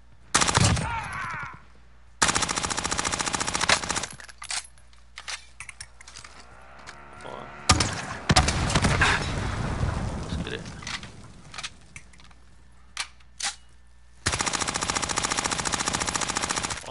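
Automatic gunfire in Call of Duty Warzone, several long rattling bursts, close and loud, separated by quieter gaps, with a player talking during the pauses.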